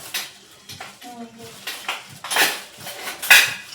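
Dishes and a pressure cooker being washed in a home kitchen, with sharp clinks and clatters of metal and crockery, brief running water and people talking close by.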